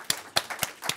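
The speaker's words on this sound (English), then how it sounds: "an applause for that" A few scattered hand claps from a small audience at a talk on Swedish Pride celebrations, about four sharp, separate claps spaced unevenly, fairly faint and with no continuous applause.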